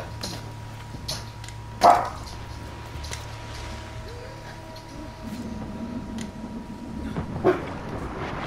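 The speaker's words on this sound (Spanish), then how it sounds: "Madre mía, cuánto perro hay por el mundo." Dogs bark in a game world in Assassin's Creed IV Black Flag, one sharp bark standing out near the start and a fainter one later, over a low steady ambient hum.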